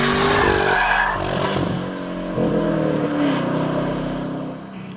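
Chevy Camaro ZL1 driving on a track during a 24-hour durability run, a loud close engine roar with rising and falling revs as it accelerates and shifts, sweeping past.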